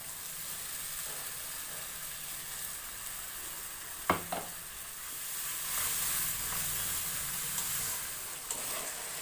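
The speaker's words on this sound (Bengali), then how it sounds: "আর মশলাও ভাজা হয়ে গেছে।" Spice paste fries in oil in a kadai as it is stirred, making a moderate, continuous sizzle and hiss with a couple of sharp scraping knocks of the spoon partway through and no voices.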